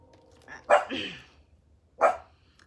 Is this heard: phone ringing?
no